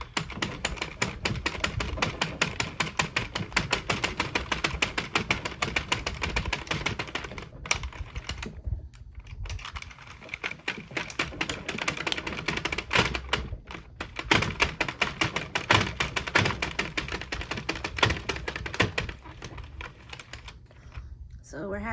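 A Sentro knitting machine being hand-cranked for a tank top, its needles clicking in a steady rapid rattle across the clip, with two brief pauses. A person talks over the mechanism.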